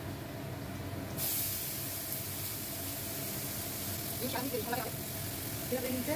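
Shredded cabbage hits hot oil in a pan of red-fried potatoes, setting off a loud, continuous sizzle and hiss, with faint crackles toward the end.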